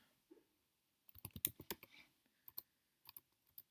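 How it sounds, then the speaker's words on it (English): Quiet typing on a computer keyboard: a quick burst of close key clicks followed by a few scattered taps, with no talking. "Let's type it in, shall we?"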